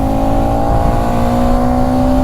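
Bajaj Pulsar NS200 motorcycle engine pulling hard at steady high revs, a loud, close, continuous droning tone with no break.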